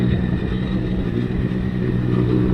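Motorcycle riding on a clear day, heard from an onboard action camera: a loud, steady engine drone with continuous wind rumble, unbroken throughout.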